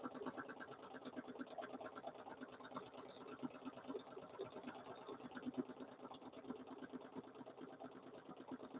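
A sewing machine free-motion stitches a small quilted mug rug, its needle chattering in a fast, even rhythm that runs continuously and fairly faint throughout.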